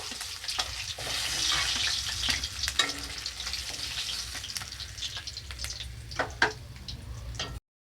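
Fish and potatoes frying in hot oil in a home kitchen, a steady close sizzle with occasional ticking spatters and stirring clinks, no talking.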